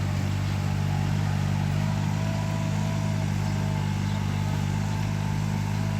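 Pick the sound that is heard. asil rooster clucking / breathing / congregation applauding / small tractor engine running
small tractor engine running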